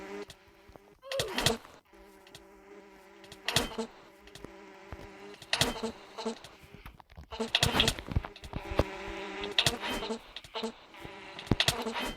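Buzzing bees in a game drone steadily, broken by repeated sharp clicks and hits, with a voice talking intermittently over them.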